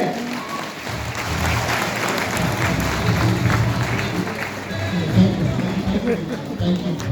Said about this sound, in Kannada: ನಿಮ್ಮೆಲ್ಲರ ಜೋರಾಗಿ ಚಪ್ಪಳೆ ಮುಖಾಂತರ ಮೈಕ್ ಸರ್ಗೆ ಜೋರಾಗಿ ಚಪ್ಪಾಳೆ